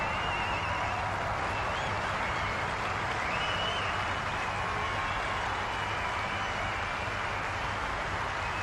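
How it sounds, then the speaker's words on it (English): A golf gallery at Royal Troon applauds in a broad, sustained wash of clapping that holds steady and loud throughout, crowd cheers faintly mixed in. "Boy, is he going to get some applause as they walk up this fairway."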